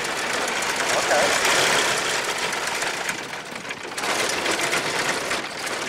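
A 1914 Ford Model T engine runs on magneto with a steady, close mechanical chugging clatter that rises and dips slightly, continuous throughout.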